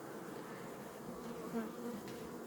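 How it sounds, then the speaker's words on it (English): Honey bees buzz steadily around a hive box during a colony split, a soft, continuous drone with no voices. "These bees are very calm in comparison to the bees over here."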